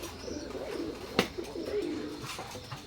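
Imported bloodline Teddy pigeons, a male and female pair, cooing close by with low throaty rolling coos and one brief sharp flutter or peck, softly audible in a quiet room.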